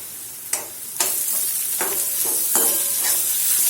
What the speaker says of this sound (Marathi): आता कांदा आणि आलं लसूण व्यवस्थित शिजेपर्यंत याला छान परतायचं